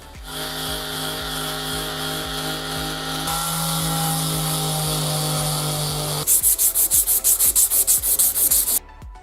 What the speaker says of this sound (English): completing this project with a solid sand and polish for those eye-catching looks